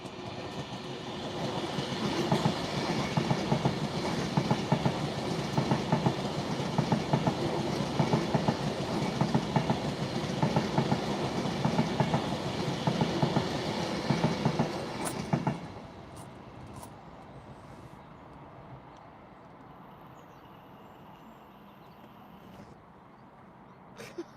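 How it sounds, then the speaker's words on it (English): A Pendolino train passing slowly, a long steady rumble with rhythmic clickety-clack of wheels over rail joints for about fifteen seconds, then fading to a quieter trackside background. "you saw what speed that Pendolino just went through"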